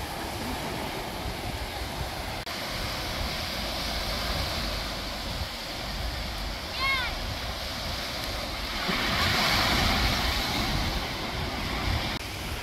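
Strong wind buffeting a beach at Tumby Bay on the Eyre Peninsula with surf rumbling beneath, a steady roaring gust that swells louder toward the end, with faint voices in the background.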